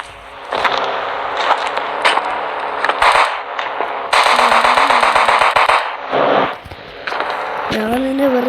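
An AK-47 fires in a video game in loud, rapid bursts of automatic gunfire broken by short pauses, with other game effects around the shots.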